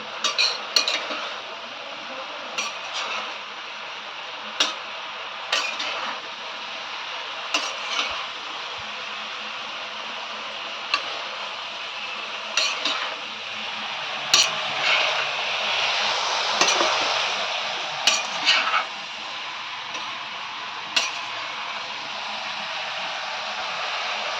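A metal spatula stirs and scrapes spices frying in a pan for a Bengali shol fish and radish dish, with steady sizzling and intermittent sharp clinks and scrapes throughout.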